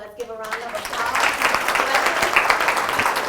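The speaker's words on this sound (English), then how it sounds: "Let's give a round of applause." A crowd applauds steadily, a dense wash of clapping that swells after a brief moment and carries on.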